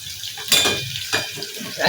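Green chillies frying in hot oil for mirchi bajji, giving a soft steady sizzle with a few louder bursts and clinks of a utensil against the pan.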